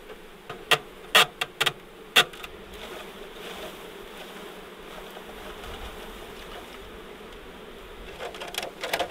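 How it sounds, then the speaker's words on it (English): A package of honeybees in Alaska hums with a steady, close buzz, broken by several sharp knocks and clicks near the start and again at the end. "This is the most bees I've ever seen in a package."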